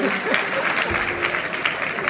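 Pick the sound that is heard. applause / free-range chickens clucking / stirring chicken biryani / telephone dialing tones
applause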